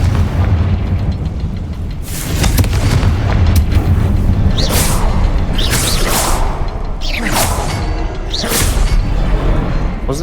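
Repeated fiery Confringo spell blasts from Hogwarts Legacy boom one after another, each a loud whooshing burst over dense, continuous game combat noise.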